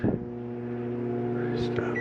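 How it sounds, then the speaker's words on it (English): A microwave oven runs with a steady low hum and fan whir inside the kitchen of a 2016 Forest River Tracer 2850RED travel trailer, close by; a brief higher tone appears near the end, with faint talk alongside. "We got a self-explanatory microwave."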